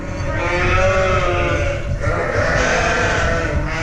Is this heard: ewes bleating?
yes